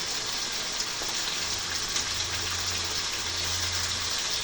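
Meat for Khulna-style chui gosht fries in a pot with potatoes and green chilies added, giving a steady, loud, close hiss and sizzle that carries on without a break.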